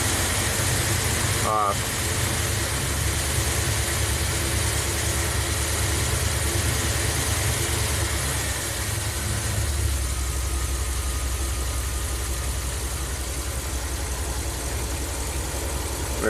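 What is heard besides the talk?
Ram camper van engine running, RPM raised manually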